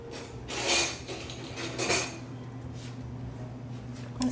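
A spoon stirs fermented rice water in a container, giving two soft scraping clinks against the sides followed by fainter swishing, quiet and close.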